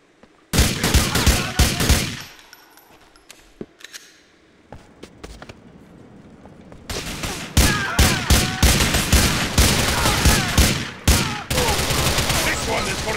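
Loud gunfire from the video game Grand Theft Auto 4: a dense opening volley, a lull with scattered shots, then sustained rapid bursts and single cracks through to the end.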